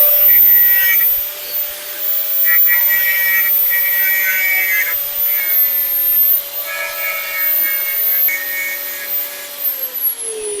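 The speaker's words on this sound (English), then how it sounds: "I'm just going to grind these little bits off" An angle grinder grinds the protruding heads off motorcycle chain rivets on a Zontes G1 125cc, a loud steady high whine with a constant tone and grinding rasp rising and easing in waves, no talk.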